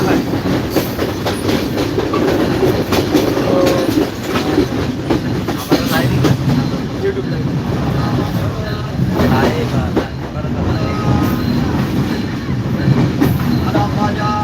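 The Kopotakkho Express rumbles loudly past at close range at Mirpur railway station, wheels clattering rhythmically over the rails, with voices faintly mixed into the steady roar.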